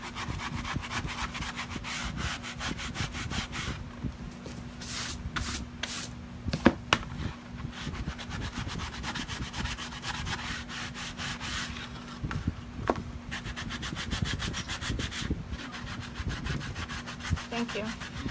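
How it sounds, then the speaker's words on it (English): Hand sanding along the edges of a wooden sign, steady rhythmic rasping strokes up close that pause briefly now and then, with a faint low hum in the background. "so I'm just gonna try to sand them as much as I can"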